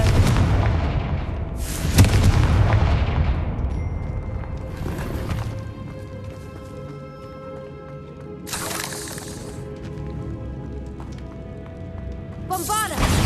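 Repeated Confringo blasting-spell explosions from the Hogwarts Legacy game: several loud booming bursts with crackling tails spread across the stretch, layered over busy battle effects and bits of voice.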